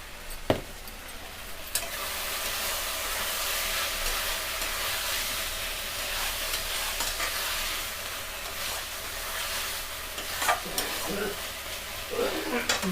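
Spices and potatoes for a fish curry sizzle and fry in a pan, with steady stirring scrapes throughout, close and continuous, plus an occasional sharper clack of the spoon.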